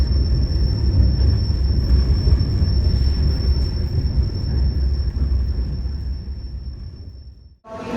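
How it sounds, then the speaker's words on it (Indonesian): The Arjuno Express train arriving at Sidoarjo station, a loud close low rumble of wheels and carriages with a steady high whine over it, cutting off abruptly near the end. "Kita bertemu dengan kereta api Arjuno Express dari Malang dengan tujuan akhir Surabaya Gubeng"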